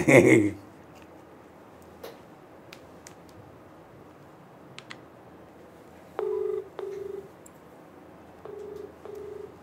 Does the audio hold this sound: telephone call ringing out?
yes